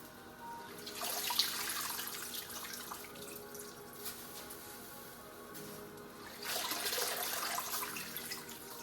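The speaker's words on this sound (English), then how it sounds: "Try to drain as much water as possible." Water draining from kale for Portuguese caldo verde soup, a close trickling, splashing flow that swells and fades, then pours again near the end.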